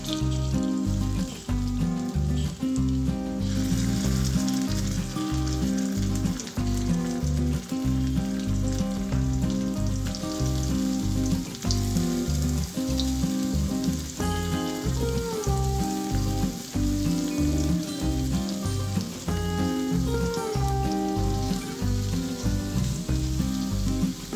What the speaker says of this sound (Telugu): జీలకర్ర వేసిన తర్వాత ముందుగా స్టఫ్ చేసుకున్న కాకరకాయ ముక్కలు వేసుకోవాలి.